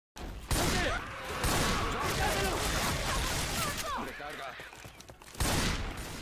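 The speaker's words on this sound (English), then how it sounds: "Stop shooting me!" Dense, rapid gunfire in a video game rattles almost continuously in a loud, crowded burst with little pause, mixed with shouting voices.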